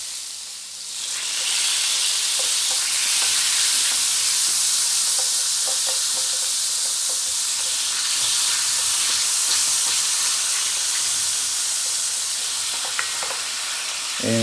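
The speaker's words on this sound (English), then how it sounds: "It's going to sizzle away and we're going to stir up the brown bits." Riesling wine poured into a hot pan with browned bits sizzles loudly and continuously, a dense hiss that starts abruptly and holds with light stirring scrapes underneath.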